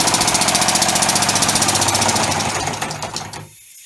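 A three-cylinder orbital air engine runs on only one cylinder, chugging in a fast, even, loud pulsing rhythm that slows and fades before cutting off into silence.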